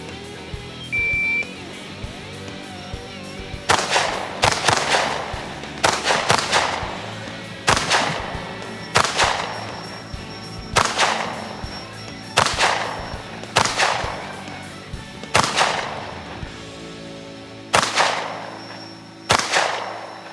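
Firearms fired on a shooting range in a competition show, about a dozen loud, sharp close-range shots spaced irregularly one to two seconds apart, each with a brief ringing decay.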